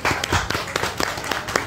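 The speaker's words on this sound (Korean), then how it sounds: "다시 한번 큰 박수로 부탁드리겠습니다." Audience applause at a Korean community youth center festival event in Daegu, a short burst of scattered clapping heard at moderate distance.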